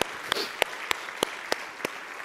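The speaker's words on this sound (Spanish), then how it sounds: "Dale un fuerte aplauso al Señor." A church congregation gives a few slow, evenly spaced sharp claps, about eight distinct hits at a steady rhythm, moderately close against a quiet room.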